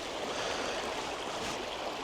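A river stream rushes steadily nearby, a continuous broad wash of flowing water with no other sounds.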